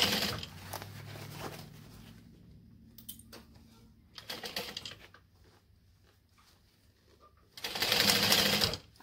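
A sewing machine stitches across the handles of a bucket bag in three bursts of rapid mechanical whirring, with quiet pauses between them.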